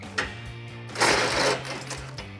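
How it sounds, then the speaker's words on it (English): A ratchet with an 18mm socket and extension turns a bolt on a winch front bumper fitted to a 2016–2018 Chevrolet Silverado 1500. It makes close, brief bursts of fast mechanical clicking, with no talking. "we're gonna go straight down using an 18mm socket and extension"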